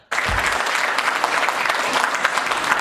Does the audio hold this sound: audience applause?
yes